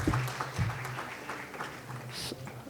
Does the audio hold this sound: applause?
yes